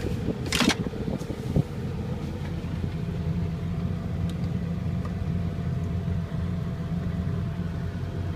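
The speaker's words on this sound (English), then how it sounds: "Let's go with the air conditioning first. Let's get that cranking here." Air conditioning blower in a 1999 Ford F350 4x4 diesel, a steady broadband fan rush with a low engine idle drone beneath, after a few clicks at the start.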